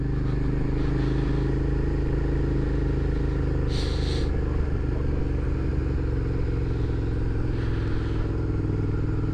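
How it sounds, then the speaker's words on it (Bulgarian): A motorcycle engine idles steadily close by, a constant low mechanical drone with faint clattering throughout. "Иначе е добре мотора."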